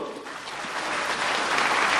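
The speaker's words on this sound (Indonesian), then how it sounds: "kasih tepuk tangan dulu yang meriah Bapak Ibu" Dense, steady applause from a business seminar audience fills two seconds, close and even, without breaks.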